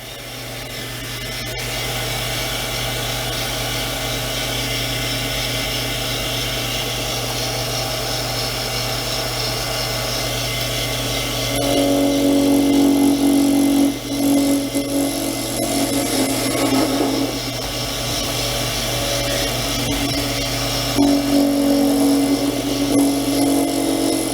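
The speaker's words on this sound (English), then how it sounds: "Here we go with the facing cut on this lathe." A Toyo ML210 lathe takes a facing cut, giving a loud, continuous mechanical whir with a steady hum. The cutting tone shifts and grows harsher partway through, and no one speaks.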